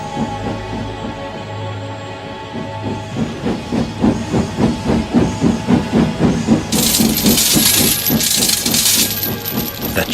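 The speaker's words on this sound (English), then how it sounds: "Thomas wheeshed and set off an old steam whistle" A steam engine chuffs in a fast, even rhythm that builds in loudness, then a sharp burst of hissing steam bursts out near the end, close and prominent with no voices.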